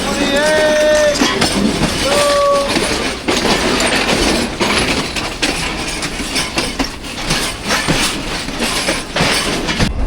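A passenger train on the Lahore to Karachi run rumbles loudly and continuously with rhythmic wheel clatter and brief squeals early on, heard from inside with faint voices under the noise.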